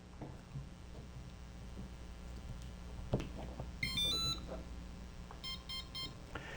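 An RC model electronic speed controller powering up gives a short series of high electronic beeps for the cell count, then a quick go-code tone sequence, thin and clear over a low hum.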